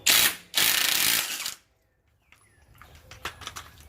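Two quick bursts of power-tool whirring, likely a ratchet with a 1 1/16 socket on a Polaris 850 front wheel, each lasting about a second, followed by quiet metallic clinks and handling noises.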